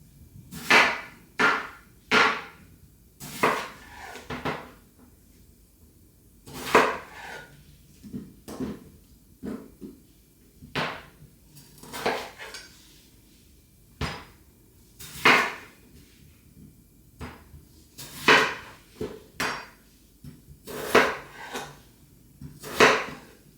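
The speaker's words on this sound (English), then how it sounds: "we have our potatoes diced, quartered, they're cut" A knife cuts potatoes on a cutting board, sharp irregular chops and knocks spaced through the stretch, some in quick clusters, with no talk.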